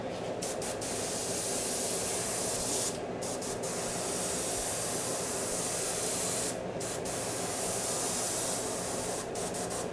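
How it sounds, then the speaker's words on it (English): A continuous fine airbrush hiss sprays paint steadily onto an RC car body, broken by a few short pauses where the spray cuts off briefly. "Yep, starting to spray for me."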